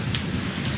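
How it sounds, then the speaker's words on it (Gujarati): Rain falls steadily in the evening, a dense, loud wash of hiss and patter with a low rumble underneath, brief and without voices. "અત્યારે જો સાંજનો સમય થઈ ગયો છે ને વરસાદ આવે છે"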